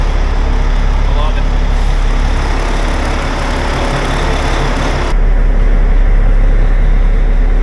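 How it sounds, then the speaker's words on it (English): A car rolls off a ferry ramp at an island ferry slip, its engine and tyre noise a steady, loud rumble with heavy low-end road and vehicle noise throughout, ending in a slightly louder, smoother roar near the end. "We're just gonna wait till that car gets off the ramp"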